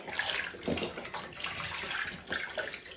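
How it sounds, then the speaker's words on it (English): Vegetable broth pouring into a soup pot, a soft continuous splashing and gurgling of liquid with slight surges, fairly quiet and close. "now we're going to stir in our vegetable broth"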